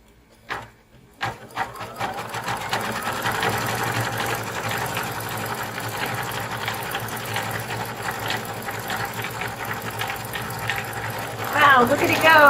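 A Dream Machine embroidery sewing machine stippling a quilted mug rug, running as a steady, fast mechanical whir that continues for several seconds after a few starting clicks, with voices talking over it.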